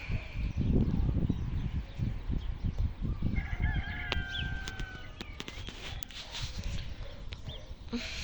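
Pet birds chirp and squawk in a new cage outdoors, with scattered calls and shuffling footsteps amid light background noise, fairly close and moderately loud.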